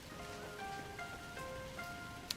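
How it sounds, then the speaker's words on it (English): Heavy rain pours steadily in a video game scene, a dense even hiss of drops on surfaces with faint tonal game music lines layered over it, and no voices. "The rain is coming down in buckets."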